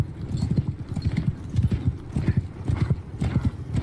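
Cavalry horses gallop across a battlefield in the Mount & Blade II: Bannerlord video game, a steady, loud rhythmic drumming of many hooves close by.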